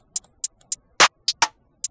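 A programmed second snare pattern built in FL Studio for a trap-style beat plays alone: a sparse sequence of sharp, bright hits of varying loudness, with one heavier crack near the middle and short gaps between strikes.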